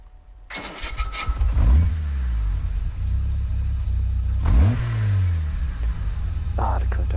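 A Jaguar E-type in Gran Turismo Sport fires up and revs twice, each rise sweeping up and falling back to a deep, throaty idle rumble.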